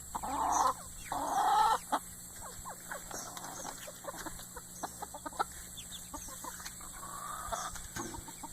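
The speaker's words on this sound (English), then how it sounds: "I'm gonna be with the big chickens." Backyard hens cluck in short, scattered bursts near and quiet, with a couple of louder squawking calls at the start over a steady background hum.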